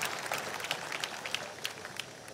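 A church congregation claps together in a quiet, distant, steady patter of many hands with scattered sharper claps, alone without talk.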